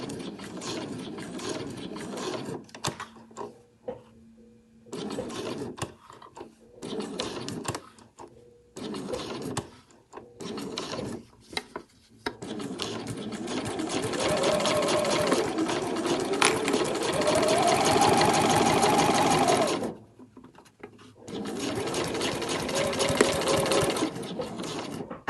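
A sewing machine runs slowly in short, stop-start bursts, then in a longer steady stretch while stitching around a curved line on a handmade travel wallet. It is close and alone.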